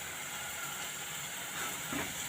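Ginger garlic paste sizzles in hot oil while being sautéed for a prawn gravy, a steady, faint hiss that holds evenly throughout without any voices.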